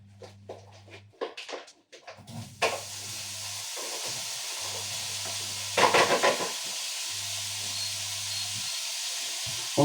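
Smoked pieces sizzle and crackle in a hot pan, a steady loud frying hiss that swells and settles as the food is stirred, with a low hum running underneath.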